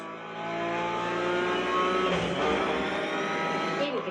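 A car slides through a drift in The Crew Motorfest, its engine revving loud and close with a sustained whine and faint tire squeal, holding steady before cutting off at the end.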